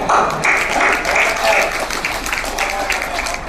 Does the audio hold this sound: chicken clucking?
no